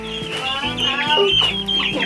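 Rhode Island Red chickens clucking close by on a homestead, a run of short overlapping clucks and squawks from several birds, fairly loud, with some voice in the background.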